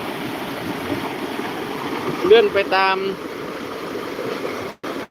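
A natural mountain river rushes steadily near rural hill villages, a continuous broadband wash of flowing water while someone talks over it and a brief louder splash or knock sounds midway.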